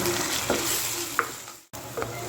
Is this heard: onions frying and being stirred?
yes